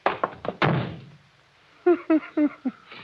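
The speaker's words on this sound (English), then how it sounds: "You shouldn't have slammed the door, Crane." In an old-time radio drama, a door is slammed shut: a few quick knocks lead into one loud, heavy thud that rings out briefly. A voice follows shortly after.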